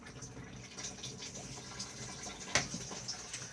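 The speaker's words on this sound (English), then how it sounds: "slide the grey lever across and then push to flush" Inside a Hobby Toskana 750 caravan, a cassette toilet flushes with a faint, steady trickle and rush of water, plus a small knock partway through.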